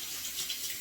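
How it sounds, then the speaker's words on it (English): Tap water running while someone rinses their face at a bathroom sink, a brief soft hiss of flowing water, faint and close, with no voices. "I just rinse it with water"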